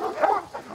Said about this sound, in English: Ferocious hunting dogs circle the trunk.